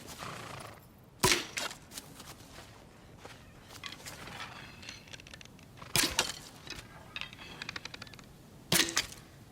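Arrows loosed from a bow in the video game Shadow of the Colossus: three sharp, loud twangs spaced a few seconds apart, each with a brief whooshing tail, over a low ambient wind bed.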